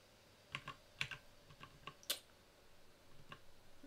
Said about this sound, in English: It's a Ergodox keyboard. Very clicky.